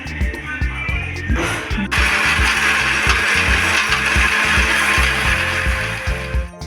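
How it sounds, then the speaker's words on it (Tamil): A mixer grinder whirs loudly and steadily, with a rough, rhythmic churning as the blades grind coconut chutney into a thick wet paste; close and continuous. "மூடி போட்டு பேஸ்ட்டாக அரைச்சி எடுத்துகிட்டு வந்துடலாம்"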